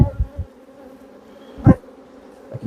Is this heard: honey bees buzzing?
yes